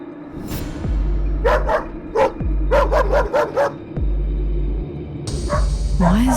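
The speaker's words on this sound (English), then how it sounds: "Why is Buddy barking like that?" A dog named in a cartoon scene barks in rapid volleys of sharp, close yaps, sometimes three or four in quick succession, over a droning background hum and short musical stings.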